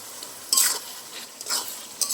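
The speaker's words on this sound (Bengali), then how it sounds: "এবার মশলাটা সব একসাথে ভালো করে কষিয়ে নেব।" Ground cumin and mustard spice paste stir-fried in a pan for a sarputi fish curry, sizzling close by with three bursts of stirring and scraping, and no voices.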